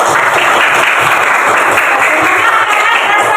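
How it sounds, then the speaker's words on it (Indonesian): Group applause in a classroom teaching session, loud dense clapping from many hands, sustained and close for a few seconds without a break. "Tepuk tangan buat kita semuanya"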